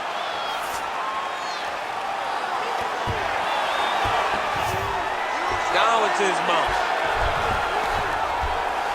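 Simulated arena crowd in a UFC bantamweight main event between Cory Sandhagen and Umar Nurmagomedov, a steady dense roar of cheering and applause that swells slightly midway, running continuously under a commentator's voice.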